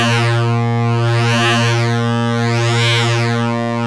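A loud, sustained synthesizer sine wave runs through a Farbfolder wavefolding module, a dense buzzy harmonic drone whose brightness swells and recedes slowly in smooth sweeps, with no voice over it.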